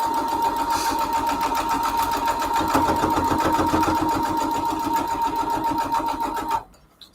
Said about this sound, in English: Let's sew this together, and I'm just sewing on the solid line.